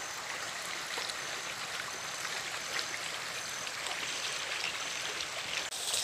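Water flowing steadily along a creek on a rural farm, a broad, even rushing and burbling that stays constant and fairly close throughout, with no voices.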